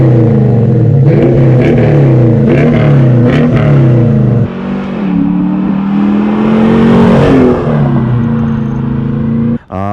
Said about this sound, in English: Maybe do some revs and flybys or whatnot.